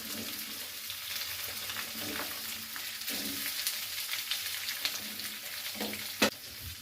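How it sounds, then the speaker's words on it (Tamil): Onions and green chillies sautéing in a pan after mustard seeds and curry leaves, a continuous close sizzle with soft stirring scrapes and one sharp clink near the end. "வெங்காயம் நல்லா வணங்கிட்டு இருக்குது"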